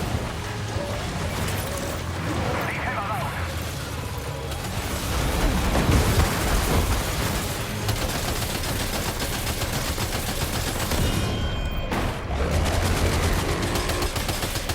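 Dense, continuous gunfire from the video game Death Stranding 2, a loud sustained barrage with overlapping shots and rumbling blasts running throughout, mixed with layered game sound and no clear speech.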